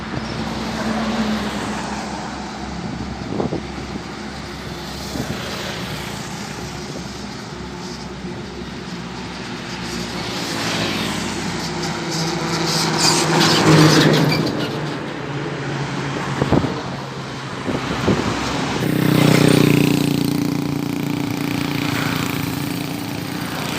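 An intercity bus passing on a road, a broad rumbling engine roar with road noise that swells around the middle and again near the end as it goes by, steady traffic hum throughout.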